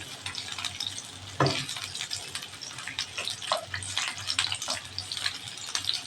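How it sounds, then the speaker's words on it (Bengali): Chopped onion, garlic and green chillies fry in oil in a kadai, giving a steady crackling sizzle broken by repeated stirring scrapes and a few sharper spatula knocks, heard close and with no voices. "আমি পেঁয়াজটাকে হালকা বাদামি করে ভেজে নেব।"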